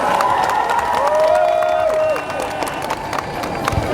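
A crowd at the opening ceremony of a sports tournament in Gao claps and cheers loudly, with shouting and mixed voices over the applause before the noise eases slightly.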